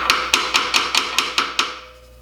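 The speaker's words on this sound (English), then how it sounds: "and then always a little hammer" A small hammer taps a wooden wall cabinet part seven times in a quick, even rhythm, each strike close and sharp, the last one ringing out briefly into silence.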